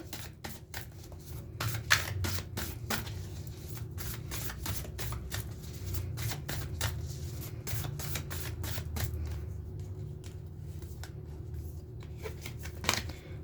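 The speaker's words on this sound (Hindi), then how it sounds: "जब तक मैं कार्ड शफल कर रही हूँ" A deck of tarot cards is shuffled by hand close up, a quick run of crisp riffling clicks and flaps repeating in bursts over a faint low background hum.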